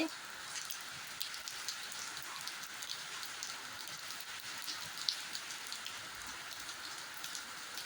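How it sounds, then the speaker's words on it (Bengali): Dense, steady hiss of heavy rain pouring down, with scattered louder drops and splashes; constant throughout, no talking. "আর এখন প্রচণ্ড বৃষ্টি হচ্ছে"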